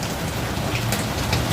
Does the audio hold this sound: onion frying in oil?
no